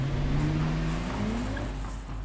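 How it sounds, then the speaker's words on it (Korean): A Nissan GT-R drives on a race track, its engine note rising and falling in a loud, steady pitch with a faint tire squeal partway through, heard alone without voices. "어느새 차가 트랙을 달립니다."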